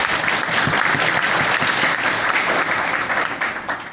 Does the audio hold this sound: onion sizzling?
no